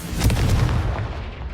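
A Confringo fire spell explosion from the Hogwarts Legacy video game on PS4 erupts as a loud, deep booming burst, its rumble rolling and fading over about a second, with no talking.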